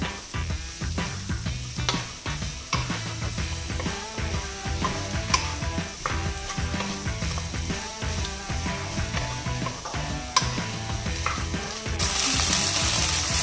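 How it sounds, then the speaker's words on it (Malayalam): Capsicum stir-fries in a pan for dragon chicken, giving a steady sizzle with scraping stirs under continuous background music. "ഇനി ക്യാപ്സിക്കം ഇട്ട് കൊടുക്കാം."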